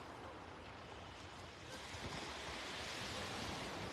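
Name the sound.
ocean waves washing over beach stones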